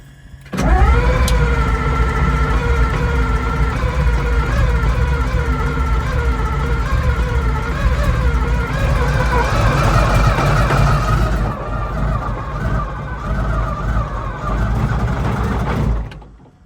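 An abandoned APC armored vehicle engine cranks and catches, then settles into a loud, rough, deep idle with rising revs, rumbling steadily close by until it cuts off near the end.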